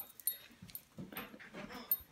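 Dog whimpering in short, quiet, broken whines and yips, fairly close, with faint background rustling.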